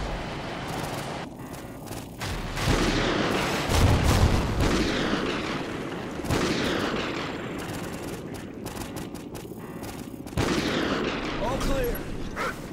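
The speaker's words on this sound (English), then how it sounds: "Use the remote sniper to clear those RPGs. Give me some cover and fire." Remote sniper fire in Call of Duty Ghosts: repeated loud gunshots and booming blasts in heavy battle noise, sharp cracks recurring every few seconds, with voices speaking amid the combat.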